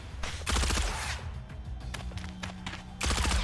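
Gunfire comes from a fortified position in the tactical RPG Reverse Collapse: Code Name Bakery, with dense rapid bursts at the start and again at the end and lighter scattered shots between.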